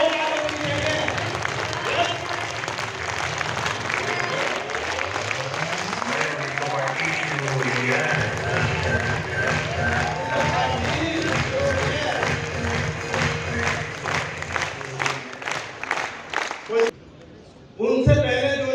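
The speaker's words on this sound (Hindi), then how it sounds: "उत्तराखंड से तालियां जोरदार होनी चाहिए।" Audience applause at an awards ceremony, with sustained clapping and cheering from a crowd carrying on for most of the stretch alongside music, then briefly dropping out near the end.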